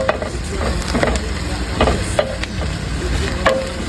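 Onions sauté in a pan for a curry goat dish, a steady sizzle with repeated scrapes and clicks of stirring running throughout at moderate loudness.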